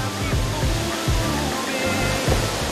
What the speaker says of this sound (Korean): 폭포에 가까이 갈수록 떨어지는 폭포수의 울림이 그대로 온몸으로 전해집니다